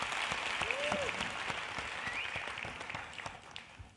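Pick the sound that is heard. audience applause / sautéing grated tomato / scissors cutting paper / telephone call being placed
audience applause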